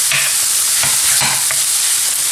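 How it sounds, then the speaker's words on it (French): Minced meat mashed and stirred in a hot pan while it fries for batbout kefta, giving a steady sizzle with soft scraping strokes of a utensil at irregular intervals, close and continuous, no voices. "Et je continue à écraser ma viande hachée"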